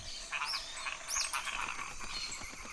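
Reticulated glass frogs call with repeated short chirping croaks against a constant wash of rainforest insect and ambient noise, moderately close and fairly quiet.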